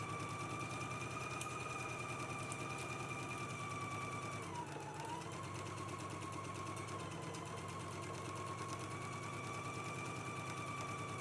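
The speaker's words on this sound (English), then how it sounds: "Let's go ahead and stitch your center back seam together, again using a 5/8 of an inch seam allowance." A sewing machine runs steadily, stitching the center back seam of a Simplicity 9952 garment with a 5/8 inch seam allowance. Its fast, even mechanical whir continues throughout, and its whining tone dips briefly midway.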